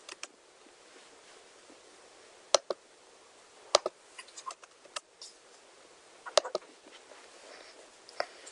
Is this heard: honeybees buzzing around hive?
no